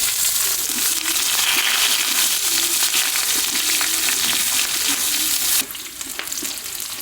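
Chopped onion frying in oil with whole garam masala, dried red chilli, cumin and bay leaves, a loud continuous sizzle with stirring scrapes that drops off abruptly near the end.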